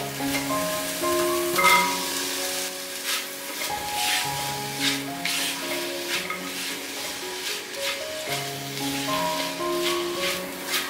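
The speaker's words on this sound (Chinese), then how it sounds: "水加进来略炒一下，放入马铃薯" Potatoes stir-fried with a splash of water in a pan, the spatula giving repeated scraping, sizzling bursts close by over steady background music.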